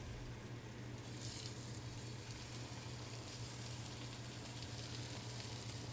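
A sea bass fillet sears skin-side down in preheated olive oil, giving a continuous, even sizzle that stays steady and fairly quiet throughout, with no one talking.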